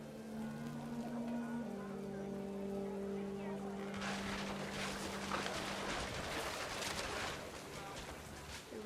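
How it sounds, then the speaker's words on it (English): Heavy rain pours down in the video game What Remains of Edith Finch, starting as a steady hiss and swelling into a dense downpour, with a faint voice underneath. "The rain came down in buckets then"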